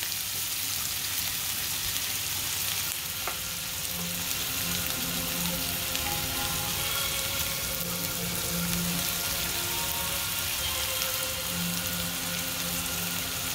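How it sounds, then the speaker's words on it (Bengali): Spices frying in oil for vegetable fried rice, a constant crackling sizzle throughout with occasional clinks of stirring. "এক এক করে আমি এখন মশলাগুলো দিতে থাকবো, ফ্রাই হতে থাকবে"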